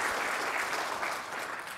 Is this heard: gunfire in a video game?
no